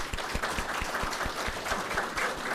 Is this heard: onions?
no